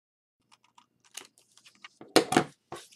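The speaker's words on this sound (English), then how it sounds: "I'm going to take my scissors, here it is, and cut those out" Scissors cut out a pencil-drawn paper shape for a dress form gift box, giving a run of short, close snips and crisp rustles with quiet gaps between them and a denser cluster of louder cuts near the end.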